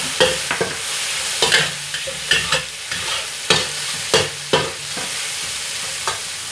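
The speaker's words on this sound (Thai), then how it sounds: "เจียวกระเทียมของเราพอหอมเหลืองนะคะเราก็ใส่กระเพาะลงไปค่ะ" Pork stomach tossed in a wok with fried garlic, giving a steady close sizzle of hot oil broken by sharp scraping and stirring clatters of a spatula at irregular intervals.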